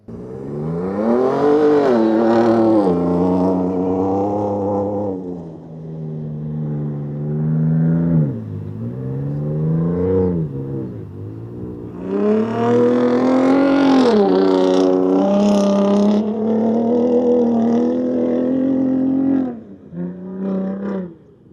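A Ford Raptor pickup's engine revs hard while driving: a loud, throaty roar that climbs and falls in pitch through several long sweeps, with brief dips between pulls and a quick final blip.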